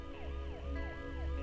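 An ambulance siren wails steadily and loudly, its swooping tone repeating in a regular rise-and-fall cycle.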